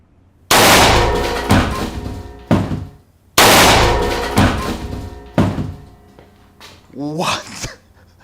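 An air-powered pistol fires single shots at a box: two loud, sharp reports a few seconds apart, each followed by clattering knocks, then a person reacts with speech.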